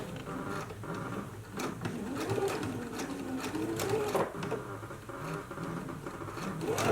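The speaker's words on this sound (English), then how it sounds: "let's go ahead and stitch in the ditch, making sure that we catch in this pressed edge." Sewing machine stitching in the ditch along a pressed cuff edge of a girls' dress, a continuous fast mechanical whirr with rapid needle ticking, close and steady, briefly slowing and surging in speed.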